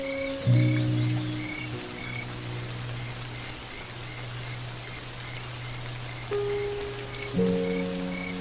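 Steady unseasonal rain hisses across the savanna while frogs croak loudly nearby in long, droning calls that stop and start.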